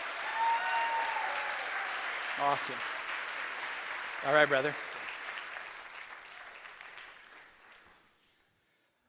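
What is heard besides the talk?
audience applauding and cheering a guest speaker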